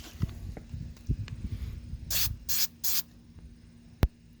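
Three short hissing bursts of an aerosol can spraying Flex Seal rubber sealant on a motorcycle, separated by brief pauses, over low rustling and handling noises.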